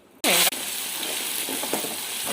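Spices hit hot oil in a kadai with a sudden loud sizzle burst, then settle into a steady, crackling fry that continues with small pops and spits.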